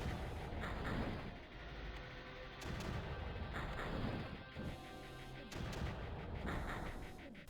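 Mortar firing in the Creeper World strategy game: a run of heavy, booming impacts that land roughly every second and a half, each followed by a rumbling tail, all loud and close with no talk over them.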